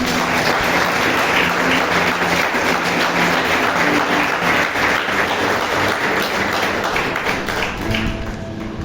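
Sustained applause from a church congregation praising the Lord, dense and loud throughout, steady for the whole stretch with a slight fade at the end.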